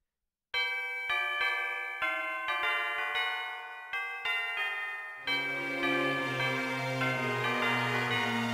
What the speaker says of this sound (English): Pikachu, ring the wish bell for all you're worth